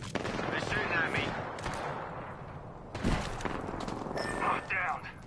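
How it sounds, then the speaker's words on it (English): Gunfire crackles in a shooter video game, bursts of automatic shots and thumping impacts under overlapping game voice callouts, fairly quiet overall. "They're shooting at me"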